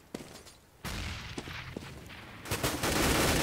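AK-47 fire in a professional Counter-Strike match on de_nuke, with sharp single gunshots early on, then sustained rapid automatic bursts that grow louder and denser toward the end.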